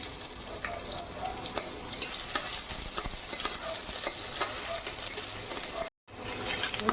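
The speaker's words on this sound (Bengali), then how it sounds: "তেলটা গরম হয়ে গেছে, শুকনো লঙ্কা, একটা তেজপাতা দিয়ে দেবো, পেঁয়াজ কুচি দিয়ে দেবো" Chopped onions frying in hot oil with dried red chili and a bay leaf, a steady close sizzle with spatula stirring scrapes throughout and a brief gap near the end.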